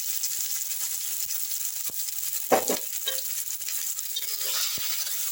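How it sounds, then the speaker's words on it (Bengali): Snake gourd spice paste fries in oil with a soft, steady sizzle, broken by one louder scrape of the spatula partway through and a few light taps. "এবার আমি তেলের মধ্যে এই চিচিঙ্গার মশলাটাকে খুব ভালো করে কষে নিচ্ছি।"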